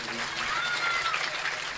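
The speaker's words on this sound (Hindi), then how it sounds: "एक बार उनके लिए भी तालियां बजा दीजिएगा" Brief, steady clapping from an audience at a Bhagwat Katha gathering in Mathura, honouring the sound crew, a dense even wash of applause with no pause.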